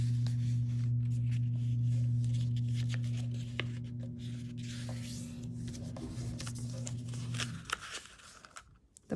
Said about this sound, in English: you're going to fold the paper along this guideline here and this guideline here, bringing these points to the middle of the page